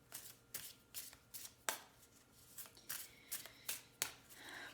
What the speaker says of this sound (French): Je vais prendre mes cartes Banksy maintenant